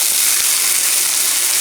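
Vegetables hiss loudly in a hot oiled skillet, a dense, continuous, close sizzle with no pauses.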